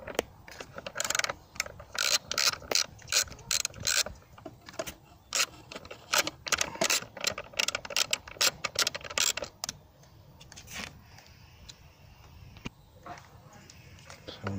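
A ratchet clicks rapidly in repeated bursts while loosening a 13mm bolt on the battery bracket of a Vauxhall Astra H Mk5, close and crisp, then tapering into slower, scattered clicks and handling noises.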